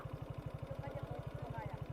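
A motorcycle engine idles on a rural road toward Dingalan, a quiet, fast, even low throb running steadily while voices talk over it.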